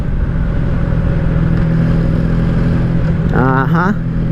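A 1984 Honda Sabre V65 VF1100S motorcycle engine cruising in sixth gear, a steady close-up rumble and whir that holds level throughout, with a rider briefly talking near the end.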